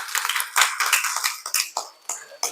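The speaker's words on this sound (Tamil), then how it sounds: "நம்ம எல்லோரும் அவங்களுக்கு ஒரு உற்சாகமாக ஒரு கைத்தட்டு தட்டுங்க" An audience at a villu paatu festival at the Uvari Suyambulinga Swamy temple gives scattered, uneven applause, with bursts of clapping rising and fading over a couple of seconds.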